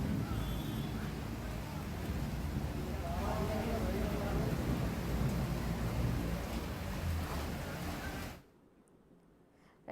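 Dense, steady roar of heavy rain in Hyderabad with low thunder rumbling underneath, continuous and loud, then cutting abruptly to near silence near the end.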